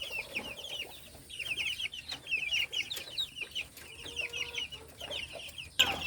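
Chickens on a hot summer day cluck and chatter in short bursts from several birds, moderately close, with a faint crow in the background and no talking.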